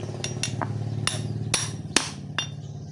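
A hammer strikes a stuck brake master cylinder part, with about eight sharp metallic blows at an uneven pace, close by and over a steady background hum.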